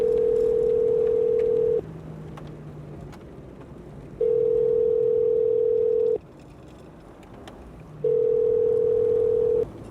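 An outgoing call to Australia rings back as a steady single-tone telephone ringback, three long repeated beeps about two seconds each separated by pauses, clear and close with a faint car interior background.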